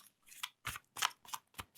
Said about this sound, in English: Get comfy as I'm shuffling the cards to do a little bit of an energy check-in.